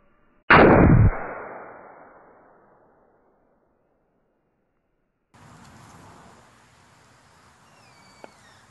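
Flash powder struck with a hammer goes off in a single loud, sharp bang up close, its ringing tail fading over a couple of seconds, followed by silence and then faint background noise.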